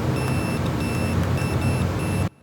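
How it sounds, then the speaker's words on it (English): A voltmeter on its continuity setting beeps with a steady, high electronic tone for about two seconds over a loud, noisy background, then cuts off abruptly when the probes part during a Jeep TJ headlight repair. "It makes a beep whenever these two come in contact with each other."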